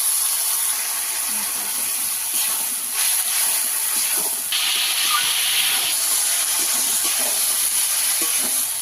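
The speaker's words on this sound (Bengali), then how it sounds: "ভালো করে এই কচু আলুটাকে কষিয়ে নেব, অল্প করে জল দিয়ে দেবো।" Water poured onto taro and potatoes frying in a pan sets off a loud, steady hiss that fills the whole clip with no break, with only faint background sounds underneath.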